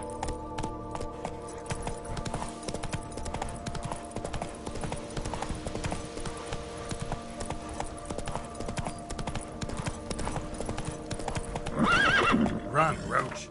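Roach, the horse in The Witcher 3 next-gen update, gallops with rapid rhythmic hoofbeats under steady game music, then lets out a loud whinny near the end.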